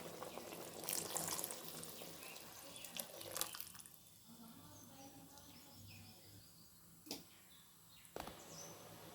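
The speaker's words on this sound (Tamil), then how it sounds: "இப்போது நான் இதில் ஒரு 3/4 சொம்பு அளவுக்கு தண்ணி ஊற்றிக்கிறேன்." Water pours and splashes into a cooking pot for a few seconds, about three-quarters of a jug, then fades to quiet background with faint insect chirps and a couple of light clinks.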